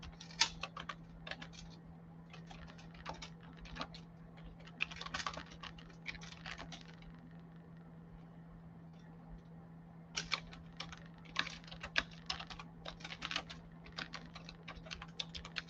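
Keys tapped on a computer keyboard in quick irregular bursts with short pauses, a soft close clatter over a steady low hum.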